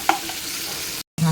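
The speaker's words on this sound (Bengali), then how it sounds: "আর এখানে উচ্ছে কুমড়ো সর্ষে ফোড়ন দিয়ে উচ্ছে কুমড়ো ভাজছি" Bitter gourd and pumpkin frying with a mustard seed tempering, a steady close hiss of oil with a brief stir, cut by a short silent gap near the end.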